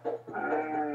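A cow lows once in a continuous, drawn-out call on a Finnish farm, with a brief dip before the sound swells and holds steady to the end, close and fairly loud with no talk over it.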